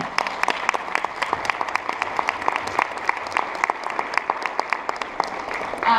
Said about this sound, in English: Can I please have a round of applause for us?